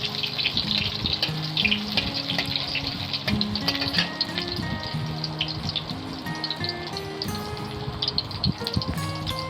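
Chopped onion and black cumin seeds hitting hot oil for a tempering, a continuous bright sizzle and crackle throughout with clinks of utensils, no talk.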